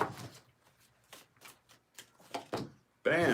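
Tarot cards being shuffled in quick riffling bursts, several short bouts separated by pauses, close and fairly soft, ending with a voice speaking.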